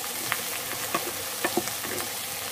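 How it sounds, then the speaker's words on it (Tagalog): Garlic and onion fry in a pan for dry pork adobo, giving a steady, close sizzle with a few soft stirring clicks scattered through it. "Lutuin lang natin sandali yung bawang at sibuyas."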